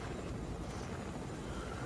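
A steady, broadband rotor-and-engine roar of a helicopter fills the whole moment, constant and fairly loud with no voices.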